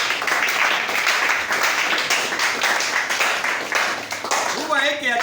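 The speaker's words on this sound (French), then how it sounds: "acclamons très fort" A church congregation applauding loudly, a sustained dense wash of clapping that fades near the end as a voice begins speaking.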